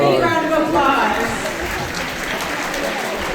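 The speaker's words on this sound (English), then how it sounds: "Let's give a big round of applause." A temple audience applauds the cooks after a Sunday feast, with steady, full clapping that tapers slightly over a few seconds while a voice speaks over it.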